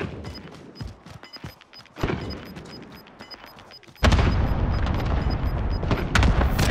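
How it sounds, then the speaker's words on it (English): Cluster strike explosions in Call of Duty, a run of sharp booms and gunfire-like cracks that builds into a loud, sustained roar of blasts in the final seconds, close and dense. "Allied cluster strike inbound"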